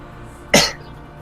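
One short, sharp cough, close and clear, standing out against a quiet background.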